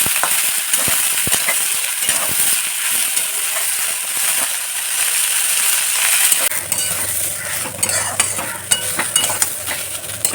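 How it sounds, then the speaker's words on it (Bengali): Beans, carrots, yardlong beans and potatoes fry together in a pan with a constant hissing sizzle, punctuated by scraping stirs and light metallic clinks of a utensil, with no talking. "বিনস গাজর বরবটি আর আলু একসঙ্গে ভাজা করছি"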